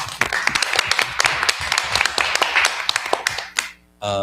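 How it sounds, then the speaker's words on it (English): Dense applause from a crowd at a school council meeting, many hands clapping at once, which fades out before a voice begins speaking at the very end. "we just give them a round of applause for being amazing"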